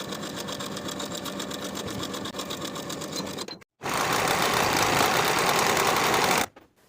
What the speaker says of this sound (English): Sew each side seam with a 5/8 inch seam allowance